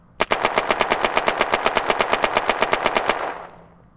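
An Empire machine gun in the video game Unturned fires one steady, rapid burst of about twenty evenly spaced loud shots, then stops with a short echoing tail.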